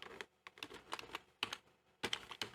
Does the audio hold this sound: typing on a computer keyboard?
yes